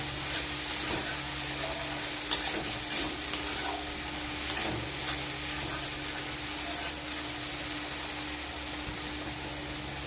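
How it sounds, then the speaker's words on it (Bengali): Spice masala and tomato sauce are stirred in a hot pan, a low steady sizzle broken by several scraping strokes of a spoon, close and unaccompanied by speech. "টমেটো সসটা দেওয়ার পর নাড়াচাড়া করে নিলাম খুব সুন্দরভাবে"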